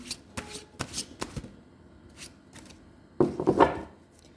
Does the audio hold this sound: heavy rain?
no